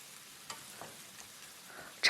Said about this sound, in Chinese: 再放入1颗八角，继续进行翻炒